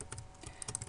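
Quiet key clicks from a computer keyboard tapping out text into a spreadsheet chart's axis title, irregular light strikes close to the mic with no talking.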